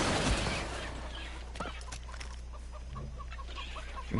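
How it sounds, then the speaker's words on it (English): A chicken clucks in short, repeated bursts, a steady string of clucks over a constant low hum, in the video game Far Cry 3. "Man, you have a chicken?"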